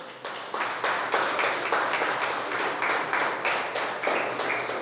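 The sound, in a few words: congregation applause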